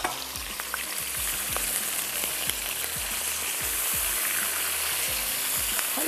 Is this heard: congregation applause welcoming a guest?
no